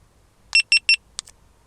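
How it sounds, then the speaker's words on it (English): A GoPro Hero 9 Black camera gives three quick, evenly spaced high beeps on power-up, close and clear, followed by a shorter pair of fainter chirps, with no talking. "the classic GoPro beeps"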